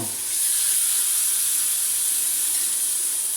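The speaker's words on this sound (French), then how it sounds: "Donc là j'ai mis la poêle à chauffer. Je viens cuire donc mes escalopes." Chicken escalopes sizzle in a hot frying pan, a steady, even hiss of searing meat that holds close and constant for a few seconds, with no voices.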